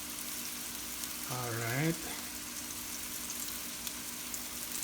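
Onions for a chicken curry sizzle steadily in a pan, a soft continuous hiss with a brief spoken remark partway through.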